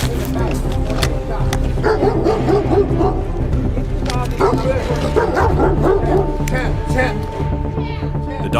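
An aggressive dog barks and snarls in repeated bursts at police officers during a tense confrontation, loud and close, with shouting voices overlapping throughout.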